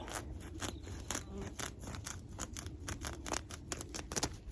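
Scissors cut across weed fabric laid over a garlic bed outdoors, giving a close, fast series of crisp snips and rustling scrapes that repeat steadily throughout.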